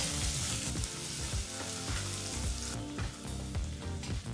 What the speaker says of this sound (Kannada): ಒಂದು ಈರುಳ್ಳಿನ ಹಾಕಿ ಎರಡು ನಿಮಿಷಗಳ ಕಾಲ ಮೀಡಿಯಂ ಫ್ಲೇಮ್ನಲ್ಲೇ ಫ್ರೈ ಮಾಡ್ಕೋಬೇಕಾಗತ್ತೆ